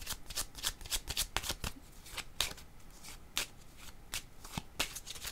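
Tarot cards being shuffled by hand close up: a quick series of crisp riffling snaps and soft slides in irregular bursts, fairly quiet, without talk.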